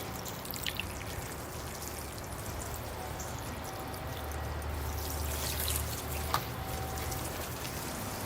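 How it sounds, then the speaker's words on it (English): Water pours and patters steadily onto the soil of a Chinese privet bonsai tree indoors, a continuous close trickling splash with a low hum underneath. "here I go with the watering"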